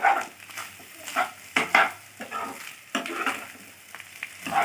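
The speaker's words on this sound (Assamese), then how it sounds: "এনেকৈ মাজে মাজে লৰাই থাকিব লাগিব।" Fish eggs fry with onions in a pan, sizzling softly while a spoon stirs and scrapes in short, repeated strokes, close and fairly quiet.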